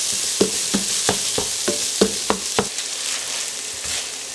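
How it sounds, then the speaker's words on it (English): Sausage frying in a pan gives a steady high sizzle, with about ten sharp clicks of a utensil scraping and stirring at irregular intervals over it; no one speaks. "So you're just gonna go ahead and cook the sausage through first."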